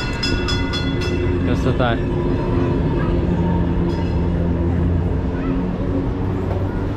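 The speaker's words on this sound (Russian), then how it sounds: "Вот, кстати, трамвайчик, про который я говорил, Таксим, Туннел" The Taksim–Tünel heritage tram in Istanbul rolls past with a steady loud rumble and rail noise, a brief bell-like tone in the mix, while someone speaks over it.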